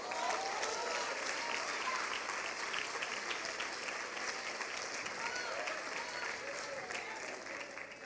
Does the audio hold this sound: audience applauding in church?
yes